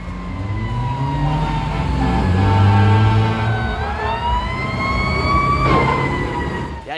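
A loud fire truck siren wails close by, its pitch sliding up and down in long sweeps over a rumbling engine.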